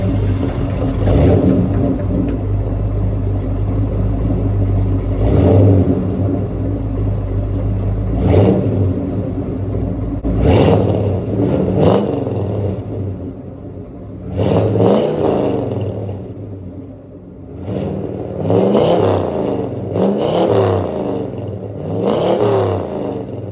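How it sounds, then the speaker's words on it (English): A 1972 Ford F100 engine exhales through Flowmaster mufflers, with a loud, deep rumbling idle broken by several sharp revs that rise and fall in bursts, close up and with no talking. "you're gonna hear Flowmaster mufflers. We thought this was quiet, but it's not. So listen to this"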